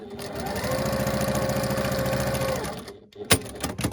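A sewing machine stitches a quilt seam in a steady, rapid mechanical whir lasting a few seconds, then stops and gives a few sharp clicks and knocks.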